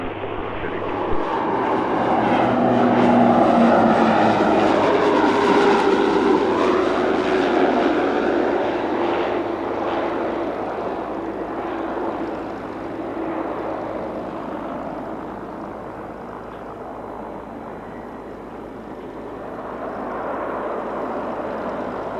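Aircraft engine at Spirit of St. Louis Airport as a small plane comes in to land on the runway: a loud, sustained roar that swells and slowly shifts pitch as it passes close by, easing off toward the end, with no voices.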